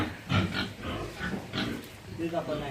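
A large pig of about 150 kg grunts repeatedly on a farm, its low snorts mixed in with close conversation in Vietnamese.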